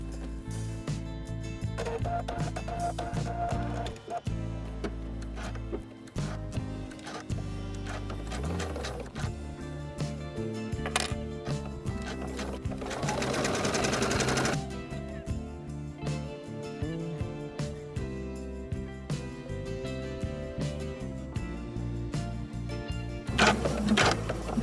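A sewing machine stitches leather or faux leather for a drawstring sling backpack in long, steady mechanical runs of rapid needle clatter, broken by brief stops, close and moderately loud with no talking.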